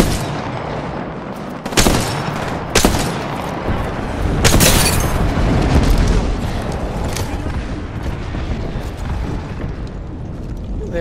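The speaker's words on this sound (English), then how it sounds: "Calling the airstrike." Airstrike in the game Apex Legends, a dense loud barrage of booming blasts and cracks with several sharp impacts early on, then a sustained rumbling roar that slowly fades.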